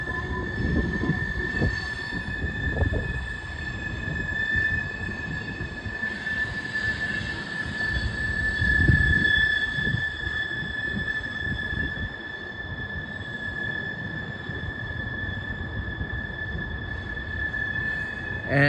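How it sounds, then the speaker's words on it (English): A CSX eastbound mixed freight train passes close by, its cars rumbling continuously for nearly twenty seconds under a steady high wheel squeal, loud and unbroken with no talk. "M316-25 eastbound mixed freight train"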